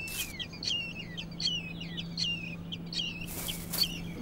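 Jackdaws calling at a nesting site in Comburg Castle, a series of short, sharp chirping calls repeated every half second or so, fairly near, over a steady low hum.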